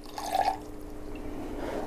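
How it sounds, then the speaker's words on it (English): Cream or half-and-half pours into a quiche egg mixture in a kitchen, giving a brief liquid splash followed by a soft, steady trickle, quiet and close. "we're going to take our cream, or kind of like half and half, basically, kind of a mix, and then pour it in"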